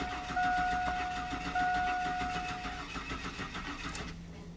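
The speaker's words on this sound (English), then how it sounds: "Now let's go inside the truck and crank it." A 2002 Chevy Silverado with a crank-no-start fault and a weakening battery turning over: a continuous rough starter whir with a pulsing rhythm that never catches, fading off at the end, moderately loud from inside the truck.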